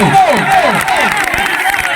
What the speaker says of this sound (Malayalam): കയ്യടിച്ച് നല്ല കയ്യടി തിരിച്ചു വരുന്നു